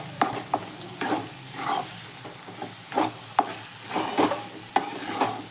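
Eggs cooking in a pan for egg bhurji, with a soft sizzle under repeated sharp scrapes and taps of a spatula stirring in an uneven rhythm, close by.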